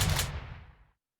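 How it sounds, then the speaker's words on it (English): A gunshot heard in footage being played back: one loud, sharp burst with a decaying rumble that dies out within a second. "and then some gunshots."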